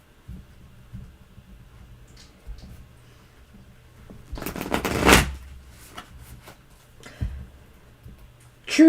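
Tarot cards are riffle-shuffled in a quiet room, one short, dense burst of papery flutter lasting about a second, with faint handling noises before and after.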